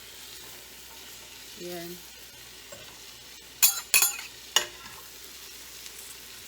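Celery and onion sauté in a pan for crawfish étouffée, a soft steady sizzle broken by a few sharp clattering stirs near the middle, with a brief voice early on.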